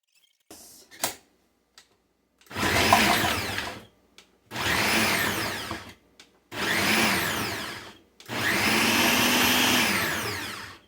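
A handheld blender whirs in four loud bursts of a few seconds each, separated by short pauses, with a few small clicks before it starts.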